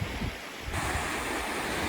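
Ocean surf washing onto a stunningly beautiful beach at Red Point, a continuous roaring wash of waves close by with some wind noise buffeting the microphone.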